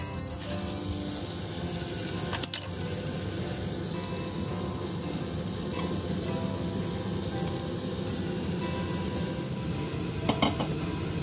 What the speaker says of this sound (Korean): 버터가 녹으면 찹쌀과 쌀을 바로 넣어주세요.